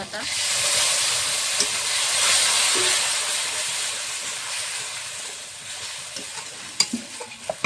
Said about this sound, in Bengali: পেঁয়াজ বাটাটা কষিয়ে নিয়েছি ভালো করে যখন তেল ছেড়ে দিয়েছে এখন দিয়ে দেবো কাঁচা লঙ্কা আদা